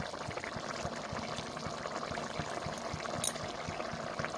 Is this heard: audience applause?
no